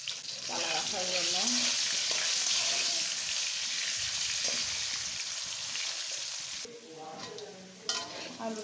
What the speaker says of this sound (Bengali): আলুগুলা ভেজে নিব। একটু লবণ আর একটু হলুদ দিয়ে দিচ্ছি